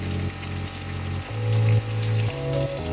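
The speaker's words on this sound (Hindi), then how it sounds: "अब इसमें पानी डाल के थोड़ी सी हम इसकी ग्रेवी कर लेंगे" Water poured from a glass into a pot of potato chicken curry to make gravy, a close gush and splash that shifts in pitch as the pour varies, in bursts over a low sizzle.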